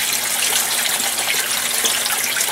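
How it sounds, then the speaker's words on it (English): Water overflows from an aquaponics grow bed into the sump tank, a loud steady splashing stream heard close up and continuous, with no voices. "as it overflows, it creates a nice steady stream down here that does a great job of oxygenating the sump tank"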